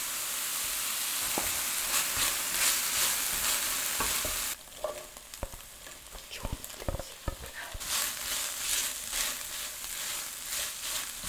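Meat stir-fries over high heat in a frying pan with onion and ketchup, giving a loud continuous sizzle that drops off abruptly, then carries on more softly with clattering stirs and spatula knocks before the hiss swells again.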